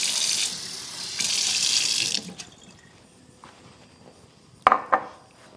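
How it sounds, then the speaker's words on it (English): Tap water runs into a pot in a hotel room kitchen, a loud close hiss for about two seconds before it shuts off, then a few clanks of the pot being set down. "I'm just going to put enough water, hopefully that will be totally absorbed."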